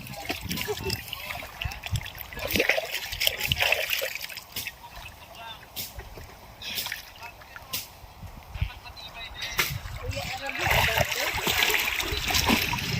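Splashing and trickling in clear water as someone swims, with irregular close splashes and drips spread throughout, under intermittent voices.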